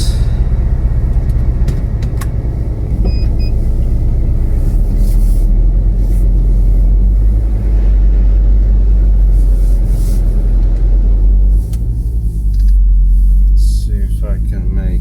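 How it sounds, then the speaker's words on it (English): A car drives at night toward Krakow, a loud, steady low engine and road rumble heard from inside the cabin throughout. "I will try to drive to Krakow during the night"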